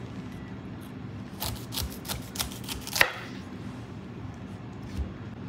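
A knife slicing through a whole pineapple during juice preparation, a run of crisp chopping cuts between about 1.5 and 3 seconds with one sharp louder cut, then quieter scraping against low background hum.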